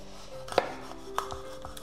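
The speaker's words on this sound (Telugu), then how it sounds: "కొంచెం పెద్ద చేప అయితే ఇలా ఒక్క దెబ్బ వేసామంటే అయిపోతుంది." A knife chops into a large fish while cutting it into thin fry pieces, giving two sharp, distinct thuds about half a second apart, close and fairly loud with a few faint knocks after.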